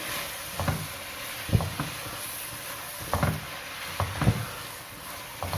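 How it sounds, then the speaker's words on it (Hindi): Boiled chana dal is stirred into sizzling masala in a pan for a dhaba-style dal. A soft, continuous fry hiss runs underneath, broken by spaced, gentle scraping and stirring strokes from close by. "ये अब इस स्टेज पे हम इसमें सारी दाल मिक्स कर देंगे"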